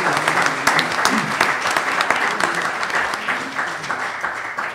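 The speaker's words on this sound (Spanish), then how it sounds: "Solicito un aplauso, por favor, para Mimi Lozano Chapa." An audience applauds warmly at a panel session on molecular genealogy as a speaker is introduced. The clapping is loud, dense and sustained throughout, with no speech over it.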